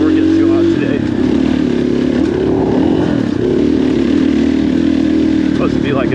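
A motorcycle on a short 32-mile loop ride from Wolf Creek to Cedar Camp and back, with steady loud engine drone and wind running throughout, the pitch shifting slightly as it cruises.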